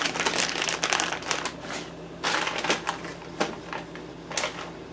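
Crinkly plastic rustling from a resealable bag being pulled open during a 2007 Chevy 5.3 engine rebuild, with several sharp crackling bursts at close range and no talk.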